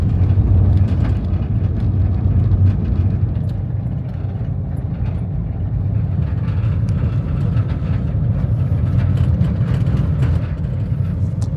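A car drives along a snow-free road near Canmore, giving a loud, continuous low road and engine rumble with steady tire noise and no talking.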